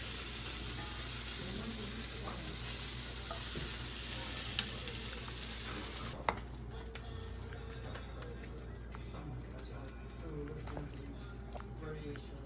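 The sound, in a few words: cooked meat added and stirred in stew pot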